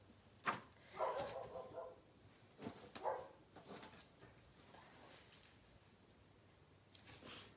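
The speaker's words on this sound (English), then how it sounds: "Oh my goodness, that dog." A dog nearby gives a few short barks and whiny yips in scattered bursts over the first few seconds, then quieter snorts and faint whimpers against a soft indoor background.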